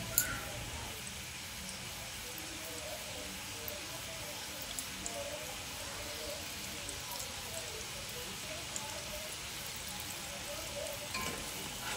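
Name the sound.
khaja pastries frying in warm oil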